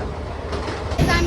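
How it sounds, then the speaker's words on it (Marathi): Mumbai local train running on rails toward CST, a loud rumbling roar inside a carriage that swells louder near the end. "तर आपण ट्रेनमध्ये आता सी एस टीला चाललो"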